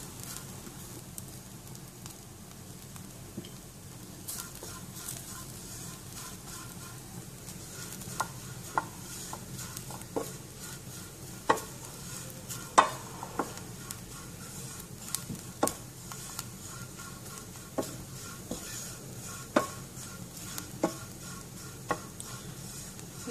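Grated coconut roasting in a pan for a lady's finger curry, with soft scrapes and sharp clicks of a spoon stirring over a low, quiet crackle, and no talking.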